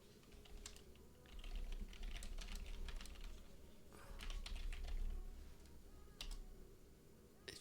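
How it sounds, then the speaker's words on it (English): Someone types on a computer keyboard in bursts of quick, light clicks, close and fairly quiet against a low background hum, with short pauses between runs of keystrokes. "But if I type something,"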